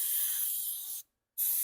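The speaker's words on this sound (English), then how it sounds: "let's spray a little penetrating oil back in there" Freeze Off penetrating oil sprays from an aerosol can onto a vehicle wheel bearing in two close, loud hissing bursts separated by a short silent gap.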